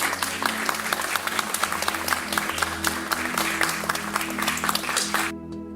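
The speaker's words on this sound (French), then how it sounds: "Oh, applaudissements." Applause sound effect from the video game Blue Prince: a dense, crisp burst of crowd clapping that runs steadily for about five seconds, then cuts off abruptly, leaving a brief fading tonal tail.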